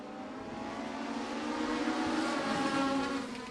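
Legends race cars at Maquoketa Speedway roar past in a heat race, a steady, loud engine drone with a rising pitch sweep as a car passes close, no voices over it.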